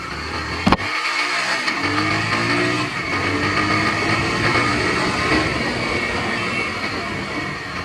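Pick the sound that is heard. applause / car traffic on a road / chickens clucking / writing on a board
car traffic on a road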